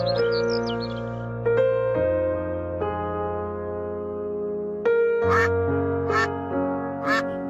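Cartoon ducklings quack and peep in short bursts, with a few sharper high calls near the end over a steady tonal background.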